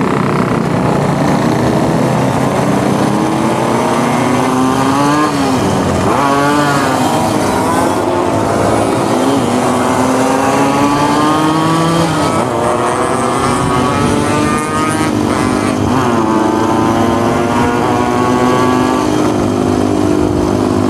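Several two-stroke motorcycles race at full throttle, their high buzzing engines rising and falling in pitch as they rev and shift, loud and close throughout.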